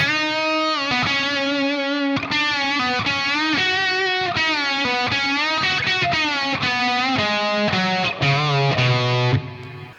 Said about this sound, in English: the first line of the solo sounds like this.